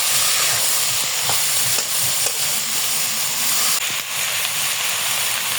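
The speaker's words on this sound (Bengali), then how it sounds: "সবজিটা দিয়ে একটু ভালো মতো ভাজতে দেখেন।" Vegetables sizzle loudly in a pan with onions already fried in the oil, a continuous hiss broken by occasional clinks and scrapes of stirring, with no voices.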